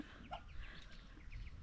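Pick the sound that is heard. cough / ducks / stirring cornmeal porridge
ducks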